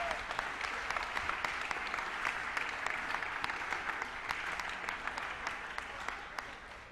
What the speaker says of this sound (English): Can we have a huge round of applause for all of the finalists?